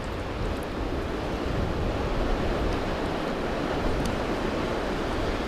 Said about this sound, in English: So here is the rapid in question.